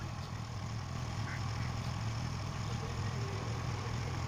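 A Honda Activa scooter engine runs at a steady idle, a continuous low hum and rumble with no break, fairly quiet and close, and no one speaks over it.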